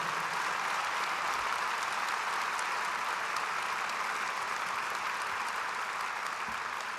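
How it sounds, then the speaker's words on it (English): A crowd at a public memorial service in Winnipeg applauding steadily for several seconds, a dense, even wash of clapping with no voices rising above it. "deserve a special round of applause"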